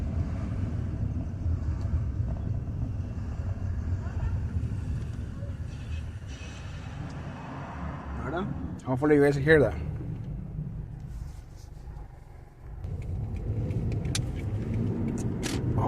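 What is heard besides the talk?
grinding noise from rear of 2010 Toyota Matrix while driving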